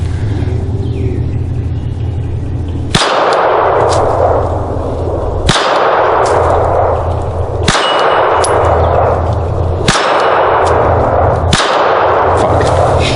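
Pistol shots ring off steel targets during live-fire training, five loud cracks each followed by a long metallic clang decaying over a rumbling outdoor background, spaced about two seconds apart.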